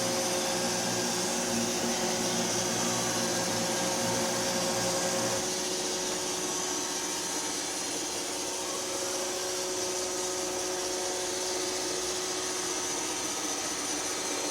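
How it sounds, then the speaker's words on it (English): Roomba robot vacuum running across a floor scattered with rice, a close, continuous motor whir with a steady tonal whine whose low rumble drops away partway through; no speech. "I'm just going to turn the Roomba on and have it clean in here"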